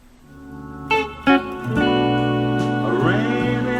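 Electric guitar playing double-stop embellishments for the chorus of a song, with two sharp plucked accents and then sustained, sliding two-note chords, close and clear with no talking.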